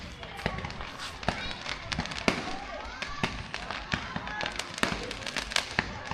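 Fireworks and firecrackers at a New Year celebration in Vietnam, a steady run of sharp cracks and bangs near and far with crackling between them, while people talk and shout over the noise.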